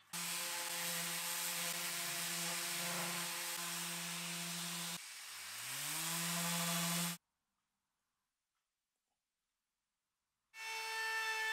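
A power sander whines steadily against the wood of a garden bench, pitch dropping as it slows and stops, a few seconds of silence, then the motor starts again.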